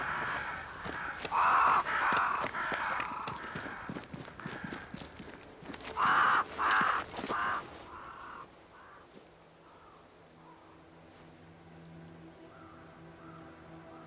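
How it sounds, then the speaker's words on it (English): Crows caw in loud, harsh bursts in the video game Banishers: Ghosts of New Eden, several clustered calls early on and again midway, over hoof-like clip-clop steps, before fading to a quiet ambient hum. "Crows. They flock to that great tree up there."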